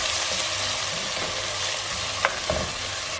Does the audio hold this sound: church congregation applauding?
no